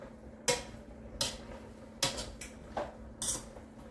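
A fork stirring salt into a cooking pot of smoked turkey and cabbage, giving five sharp metallic clinks against the pot's rim and sides at a slow, uneven rhythm, close and fairly clear with no talk.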